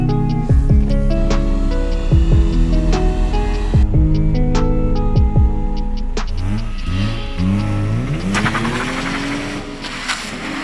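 A Toyota Mark II on a test drive, its engine droning and revving steadily near and loud, with rising pitch sweeps as it accelerates and shifts, and a brief dip before the revs climb again.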